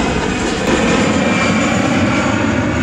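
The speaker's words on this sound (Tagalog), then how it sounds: "Aeroplano na yan." A fixed-wing airplane passes overhead, a loud, continuous engine roar that fills the clip on its own.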